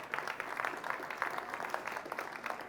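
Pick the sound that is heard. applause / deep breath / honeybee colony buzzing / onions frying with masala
applause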